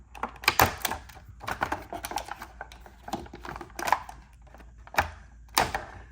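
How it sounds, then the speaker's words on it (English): A knife cuts away plastic packaging tabs from a toy figure, giving a run of sharp close clicks and snaps in irregular bursts with short quiet gaps between them, with no talking. "we'll go ahead and use the grandpa knife and cut away from ourselves here"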